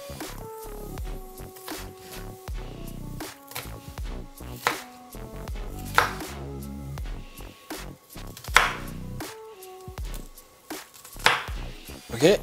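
A knife cuts an onion into julienne strips for a Haitian cow-foot stew, giving repeated sharp chopping taps in uneven bursts on a board, close and fairly quiet. Dishes clink and music plays faintly underneath.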